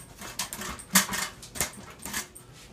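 Excited dogs whimper and whine in short bursts near an outdoor can cooker being filled with chicken, corn and peppers, with light clinks and clatter scattered between the cries.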